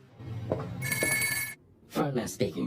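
Telephone ringing in a Squid Game episode, a bright electronic ring bursting for about a second, with talk before and after it.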